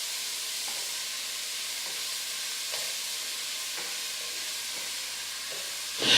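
Small diced onion sizzling in beef fat in a pot: a steady close frying hiss with a few faint stirring scrapes, no voices.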